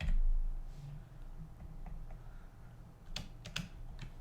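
Computer keyboard keys are pressed in a few scattered, soft clicks, with a small cluster of quick taps near the end, in an otherwise quiet room.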